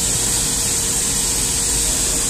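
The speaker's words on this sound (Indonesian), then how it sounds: "semprot lalu dilap." A spray bottle of homemade cleaner mists onto mold-stained glass in one loud, continuous airy hiss that lasts a couple of seconds with no voices.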